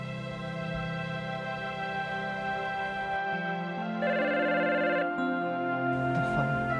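Telephone ringing over a dramatic tonal music score, an electronic ringtone pattern rising out of the sustained music partway through and repeating.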